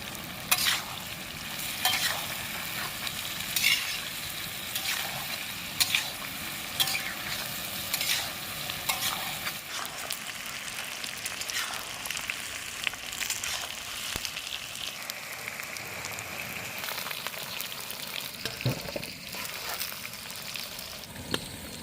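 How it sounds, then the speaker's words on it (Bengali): Young jackfruit pieces frying in hot oil, a continuous crackling sizzle with irregular popping and the scrape of stirring against the pan, close and steady throughout. "এবার এগুলোকে আমরা গরম তেলে ভেজে নেব"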